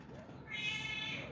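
A single drawn-out cat meow rises out of low background noise, heard close and clear.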